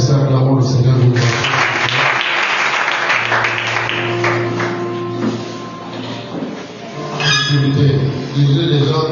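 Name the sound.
church congregation applauding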